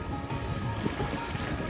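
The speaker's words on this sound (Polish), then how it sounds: "Płynie nasza łódka" A small boat moves through open water off Coral Island near Phuket, a steady wash and churn of water against the hull, close and fairly quiet, with no voices.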